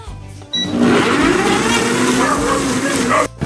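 A blender whirs loudly for about three seconds while blending a kimchi seasoning sauce, starting abruptly and stopping just as suddenly, its motor pitch rising as it spins.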